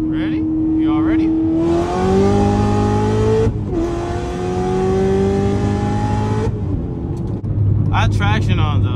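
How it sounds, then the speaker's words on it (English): An 800 hp manual Corvette C7 ZR1 pulls hard in second gear with a loud, rising engine note, briefly dropping at a shift before climbing again, with a person speaking over it inside the cabin. "Right, little second gear hit."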